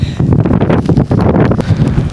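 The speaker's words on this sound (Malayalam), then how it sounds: "പക്ഷെ ഭയങ്കര കാറ്റാ, ഭയങ്കര കാറ്റും ഭയങ്കര കോടയും" Strong wind buffets the microphone at the top of a tower on a foggy hike in snowy Germany, a loud, continuous rushing roar with gusty pulses and no voices.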